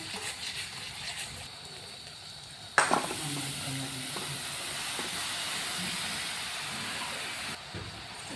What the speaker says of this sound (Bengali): এবারে দিয়ে দেবো মাশরুমগুলো